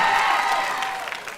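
Women in a live audience applaud a comedian's line. The clapping is brief and dense, with faint crowd murmur and a few cheers mixed in, then it tapers off.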